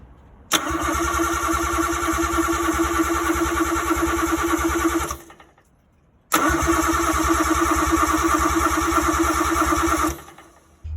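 A big-turbo Nissan RB25 engine cranks over on its first start attempt, two long bursts of steady, rapid starter churning separated by a short pause, loud and close, without firing, and no voices.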